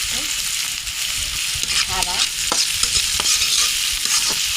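Onion with green chilli frying in a pan with oil, a continuous bright sizzle broken by repeated scraping strokes of a spatula stirring, close and fairly loud.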